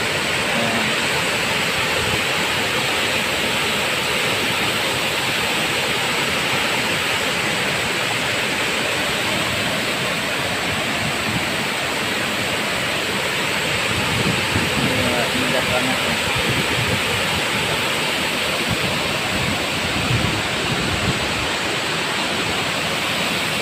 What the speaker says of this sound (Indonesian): Lihat kecalak atau air terjun kecalak nih, indah banget pastinya